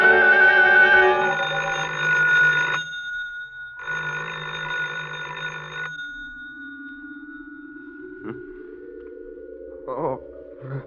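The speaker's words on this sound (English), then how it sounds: "I thought I heard the phone." A telephone bell rings twice in an old-time radio drama sound effect, loud bursts separated by a short pause, followed by a faint rising tone and a few soft clicks.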